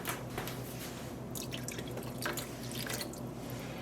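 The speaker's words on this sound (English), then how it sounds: "let me add some more liquid" Liquid runs and drips steadily into a yarn dyepot holding green-tinged water, a continuous close splashing trickle with scattered brighter drips throughout.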